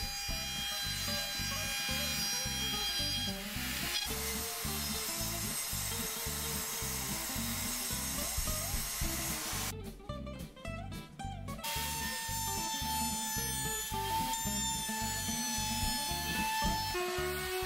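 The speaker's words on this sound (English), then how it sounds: "trimmed off the excess walnut on the router table using a flush trim bit" A router on a router table with a flush trim bit trims excess walnut off cabinet pieces, giving a loud, continuous high whine with rhythmic cutting pulses and a brief dip in the middle.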